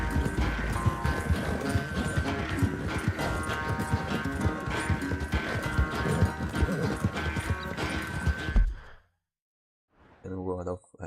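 Horse galloping hard in a race in Red Dead Redemption 2, with rapid rhythmic hoofbeats over game music and a voice talking, ending in a sudden drop to near silence followed by a short breathy snort.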